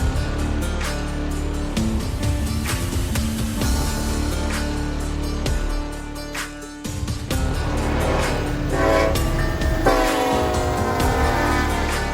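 A Lionel Legacy model steam locomotive's horn sounds in repeated blasts over a steady mechanical rumble, loud and close.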